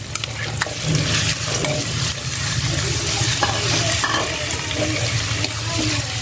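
Ground meat hits a pan of browning garlic and fries loudly up close, a thick roaring sizzle broken by scraping stirs and clinks of a utensil against the pan.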